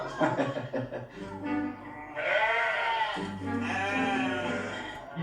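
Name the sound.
sheep bleating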